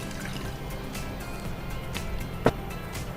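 Water is poured into a pressure cooker with a steady, soft trickling flow, with one small clunk near the end.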